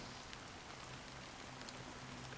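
Steady rain falls in a video game world, a faint, even hiss of drops on surfaces with scattered small patters, continuous and alone without voices.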